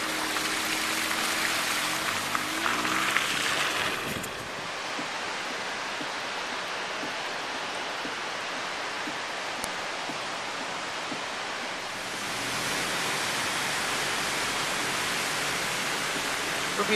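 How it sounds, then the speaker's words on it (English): Dirty floodwater full of debris rushes loudly and steadily after three days of rain near Exeter, a broad roaring wash that dips briefly in the middle before surging back. "You can see all the debris and dirty water rushing down."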